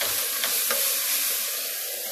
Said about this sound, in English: you hear that nice green sizzle?